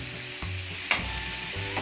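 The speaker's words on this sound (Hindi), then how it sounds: "अब हम मसाले को अच्छी तरह पहले भून लेंगे" Spices fry on a tawa for kaleji, a continuous sizzle broken by a couple of sharp stirring scrapes, with a low hum underneath.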